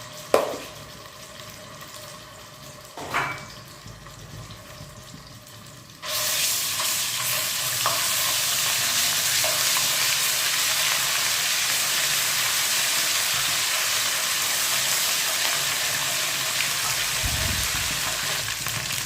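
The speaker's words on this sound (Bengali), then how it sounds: "যে তেল দিয়ে আমরা চিংড়ি মাছ ভেজেছি সেই তেলের মধ্যেই আমরা রান্না করব। এখন এখানে দিয়ে দিয়েছি 4 চামচের 1 চামচ আদা রসুন পেস্ট বাটা।" Ginger-garlic paste hits hot oil left from frying prawns and bursts into a loud, steady sizzle that keeps going. A couple of faint clinks come before it, and the sizzle runs alone with no talking.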